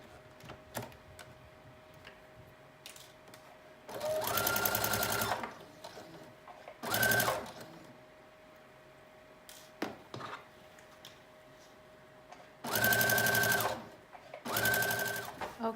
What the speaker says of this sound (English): you're going to stitch a loose stitch just to baste the lining onto the skirt